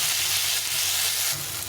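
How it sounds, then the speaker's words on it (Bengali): A large tomato fries in oil in a pan while a fish curry is cooked, making a steady, close, continuous sizzle with no talk over it. "টমেটোটাকে ভালো করে ভেজে নিতে হবে।"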